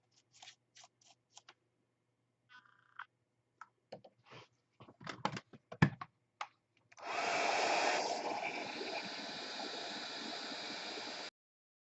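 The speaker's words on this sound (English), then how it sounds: "I'm going to take my heat gun, my heat embossing gun" A heat embossing gun drying paint on wood: a few handling clicks and taps, then a steady, loud blowing whoosh that runs unbroken for several seconds before it cuts off.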